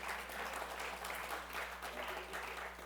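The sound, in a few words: applause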